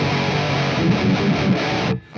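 Heavily distorted electric guitar played through either a tube amp or an amp plugin, a dense sustained chord wall with strummed accents that cuts off abruptly near the end, loud and alone.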